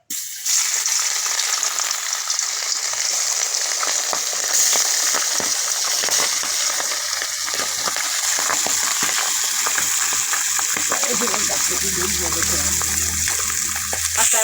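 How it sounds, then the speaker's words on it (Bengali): Turmeric- and salt-rubbed rohu fish pieces are dropped one by one into hot oil in a kadai, giving a loud, steady, hissing sizzle that carries on throughout. "এক এক করে মাছটা কড়ায় দিয়ে দেবো ভাজার জন্যে"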